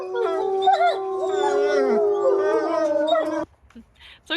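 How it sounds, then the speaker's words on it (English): A wolf pack howls together, several long overlapping tones at different pitches rising and falling for over three seconds, close and loud, then stopping abruptly. "howling together as a pack like that"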